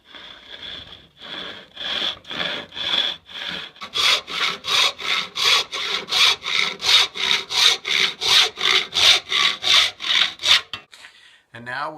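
A hand saw cuts off the excess glued part of a repaired three-piece sharpening stone, rasping back and forth in steady strokes that quicken and grow louder midway, then stop abruptly.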